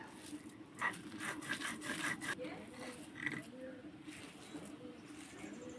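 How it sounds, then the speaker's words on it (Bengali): Crab paste with shells being ground finely on a grinding stone, a steady rough rubbing and scraping that runs throughout at close range with uneven strokes. "ভালো করে মিহি করে বেটে নিতে হবে যাতে কাঁকড়ার খোলাগুলো গালে না লাগে"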